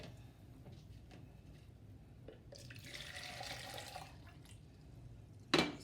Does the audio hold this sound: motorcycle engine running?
no